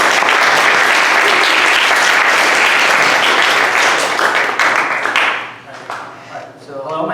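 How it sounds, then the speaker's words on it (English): A school audience applauds a student presenter at an AP Research talk, dense sustained clapping for about five seconds, then thinning into scattered claps before fading. "Let's give him a round of applause."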